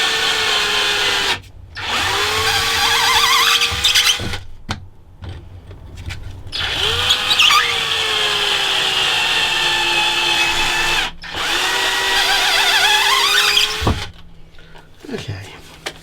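A new power drill runs in long steady whining bursts while building a fretboard miter block in woodworking, its pitch rising and settling with brief pauses and clicks between runs, close and loud.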